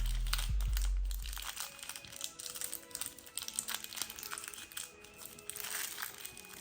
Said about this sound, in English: And that's how you wrap a rice cake.